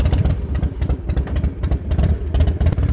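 Motorcycle engine on a bike nicknamed Miss Piggy while riding, a loud, close, pulsing rumble with rapid rhythmic firing beats throughout.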